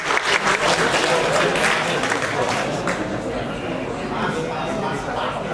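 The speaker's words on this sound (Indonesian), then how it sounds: "Jadi berikan tepuk tangan" Sustained audience applause at a tech meetup in Indonesia, a dense crowd clapping steadily throughout with some voices mixed in.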